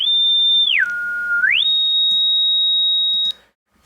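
A pure electronic sine tone holds high, glides smoothly down to a lower pitch, then slides back up and holds steady before cutting off abruptly.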